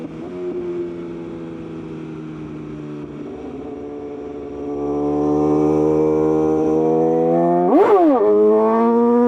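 A motorcycle engine drones steadily during a sit-down wheelie on a track, then its pitch climbs as the rider accelerates, with a sharp rev spike and drop near the end, loud and close.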